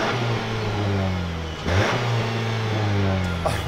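A 2021 Nissan Sentra SR with manual transmission revs up and down through a single exhaust, heard from outside at close range, rising pitch sweeps repeating over a few seconds.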